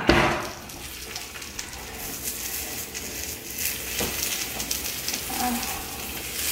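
Keto fish frying in salted oil in a pan on a stovetop, a steady close sizzle with soft crackles and pops and a faint stir or scrape now and then, no voices.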